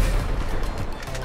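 Explosions from a bombing attack on monster trucks doing extreme bowling with an off-road bigfoot truck mod in GTA5: a dense, continuous rumbling blast barrage that fills the whole short moment, loud and near, with no talk.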